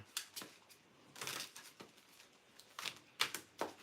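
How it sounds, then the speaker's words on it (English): A deck of cards is shuffled by hand, giving faint, close riffling bursts and soft snaps in an irregular rhythm with short pauses between. "I'm just shuffling the cards a bit"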